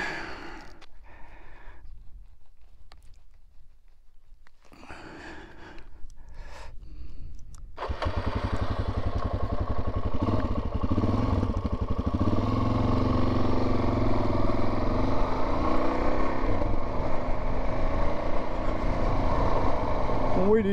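Motorcycle riding along a dirt trail on the Arizona Backcountry Discovery Route, its engine rising at about eight seconds into a steady, loud drone with wind rush that carries on to the end, after quieter, patchy opening seconds.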